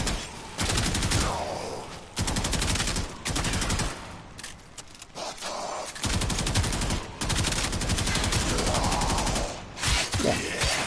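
Gunfire from the video game Warframe comes in rapid automatic bursts with short pauses between them, loud and close.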